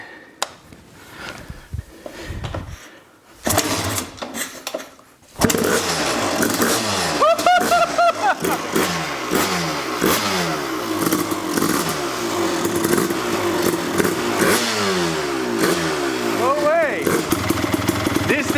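After some clatter and a kick start, a Honda CR250 two-stroke dirt bike engine, previously non-running, sputters to life and idles with a buzzy, uneven rhythm and occasional revs, close by; people talk.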